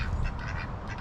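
A large duck quacking close by in a farmyard setting, a quick run of loud, raspy quacks filling the short moment.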